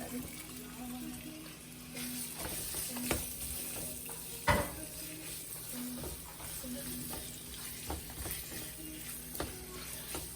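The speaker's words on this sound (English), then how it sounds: "Now you just gotta cook the pork a little bit." Pork frying in a pan for stir-fried sticky rice cakes gives a quiet, steady sizzle, with scraping stirs and clinks of a utensil against the pan at irregular moments.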